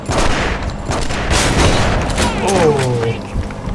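Gunfire from a shotgun in The Punisher video game, a run of loud booming blasts in quick succession with a player talking over the action.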